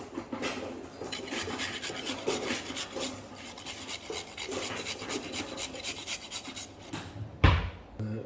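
Carrot is grated by hand for coleslaw in a home kitchen, with rapid, even, scratchy rasping strokes close up for several seconds, ending with a brief knock.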